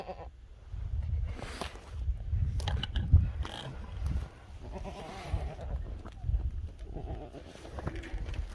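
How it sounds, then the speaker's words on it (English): Goats on a farm bleat several times in a row, close and fairly loud, amid rustling and movement noises. "Goats are fun."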